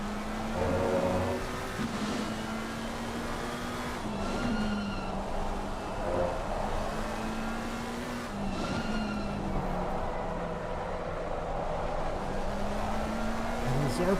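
McLaren race cars in the Delta Racing League sim racing game at Zandvoort pass with a steady engine drone and shifting pitch, plus brief tire squeals, continuous and fairly loud under commentary.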